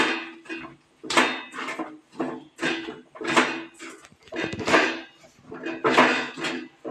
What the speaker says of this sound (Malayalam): പൊടി ഇട്ടിട്ട് ഇനി ഇളക്കുക.